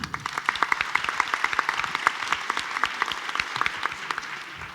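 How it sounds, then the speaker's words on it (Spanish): An audience applauds at a Spanish-language literary panel during a literature biennial. The clapping is dense and steady, with distinct sharp claps standing out throughout, loud and close. "Un aplauso"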